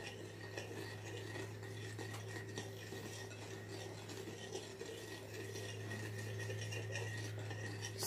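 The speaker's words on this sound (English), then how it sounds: "Stir it all around." Candy apple mixture being stirred in a pot, a steady scraping and swirling that runs close and continuous with no pauses and no voices.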